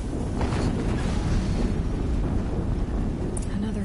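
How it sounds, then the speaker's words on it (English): A sustained, rumbling explosion in Horizon Zero Dawn at Maker's End roars loudly and densely throughout, a thick low-heavy blast with no voice over it. "Another explosion."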